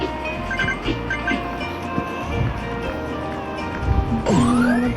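A train rumbles past in a game soundtrack, with layered mechanical hum and clatter and a rising electronic tone near the end.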